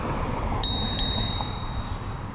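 The bell on a Rad Runner Plus e-bike gives two bright, ringing dings in quick succession. The tone hangs on over steady outdoor background noise.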